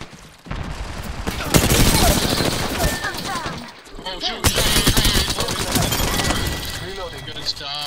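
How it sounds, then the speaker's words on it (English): Rapid, overlapping bursts of gunfire in the video game Apex Legends crackle loudly and almost continuously, with voices mixed into the chaotic firefight. "Listen up, I'm getting shot at."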